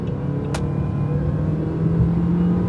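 A 2023 Jeep Commander Limited T270 accelerating in drive: a steady, moderate engine hum heard from inside the car, with a short sharp click early on and a slight swell as it speeds up.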